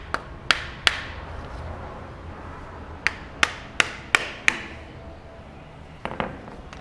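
A hammer strikes a clutch pilot tool to drive out a car's pilot bearing, giving sharp metallic blows close by in two quick clusters, three strikes and then five, with fainter taps at the end.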